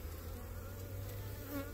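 Honeybees from a cutout hive drone steadily around a comb frame heavy with pollen, a dense continuous buzz filling the whole moment close up, with no voices.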